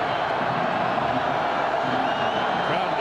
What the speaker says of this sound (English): Crowd in that end zone. Those are mostly Purdue folks, and they're trying to help their team.